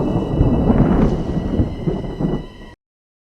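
Thunder rolls after a lightning strike in a storm, a deep rumbling boom that swells and fades over a few seconds before cutting to silence.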